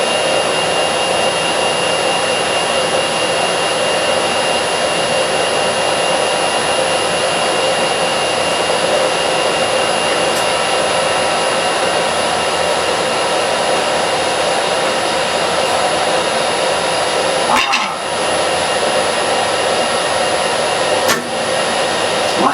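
A Colchester Master metal lathe runs in reverse gear with a loud, steady motor whine and hum that holds throughout. A brief clunk comes near the end.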